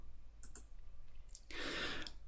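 Computer mouse clicks come in a few quick, faint taps close by in a quiet room, followed by a brief soft rustle.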